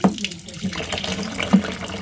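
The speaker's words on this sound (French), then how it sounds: "Voilà, on laisse couler l'eau chaude." Hot water runs steadily from a kitchen tap over meat being prepared for a sauté, a continuous close splashing stream with brief brighter spurts.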